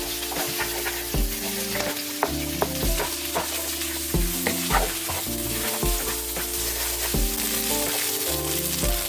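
Rice being stir-fried with chicken stock, garlic and turmeric sizzles steadily in a hot pan, with scraping stirs, over a continuous layer of tonal music.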